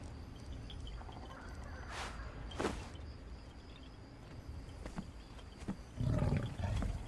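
A tiger roars in the video game Palworld, a few loud bursts over a steady droning game background, with a heavier rumbling roar near the end.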